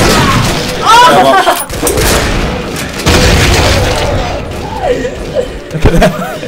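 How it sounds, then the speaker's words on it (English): A grenade blast booms loudly in the video game Meatball Machine, followed by further explosive crashes and gunfire-like bursts, with excited voices talking and reacting over the din. "Oh, you blew up a whole fucking room!"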